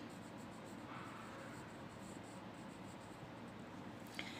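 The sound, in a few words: writing on paper during a class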